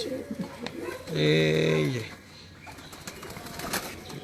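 Teddy pigeons cooing in a rooftop loft, a short, loud harmonic coo in the middle with softer bird sounds and faint voices around it.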